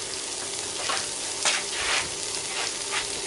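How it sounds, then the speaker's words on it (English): Onions and carrots sizzle steadily in a hot pan, a constant crackling hiss with occasional louder spits and stirring scrapes, close by. "you can hear me sizzling already, fry onions and carrots together"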